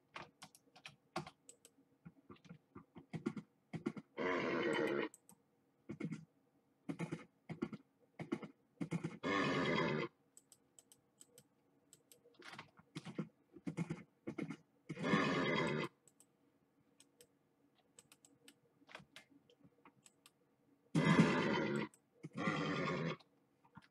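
A Minecraft horse neighs and whinnies in several separate bursts within the game, set among rapid keyboard typing and clicking, with no talk.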